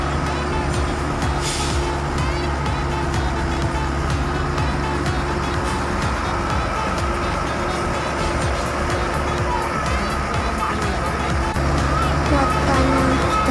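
A heavy sand truck rumbles with a steady engine drone near a river-filling excavation site, its low roar holding throughout with faint hiss and clatter, loud and close.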